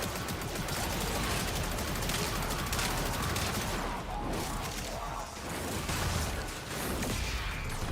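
Dense, continuous gunfire in the Warframe video game during an Infested spy mission, enemy shots aimed at the player's Warframe, a steady loud barrage with crashing impacts filling the whole stretch.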